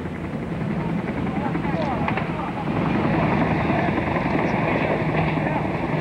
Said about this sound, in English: those particular helicopters appear to be troop-carrying helicopters